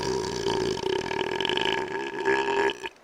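A voice imitates a long, loud, drawn-out burp, a rough, gurgling croak lasting about three seconds that ends abruptly, close to the microphone, during a tabletop role-playing game session.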